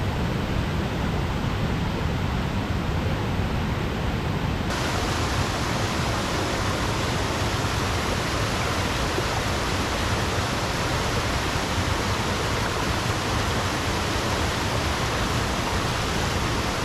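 A stream rushes steadily beside a waterfall at Ashgill Force in Cumbria, a close, loud and constant broadband roar of flowing water with no pauses and no voices.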